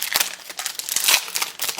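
A Babylon 5 CCG Premiere booster pack wrapper being torn open, with close, crisp crinkling and crackling foil plastic throughout, loud and with no talking.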